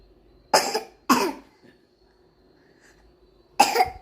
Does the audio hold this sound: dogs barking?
no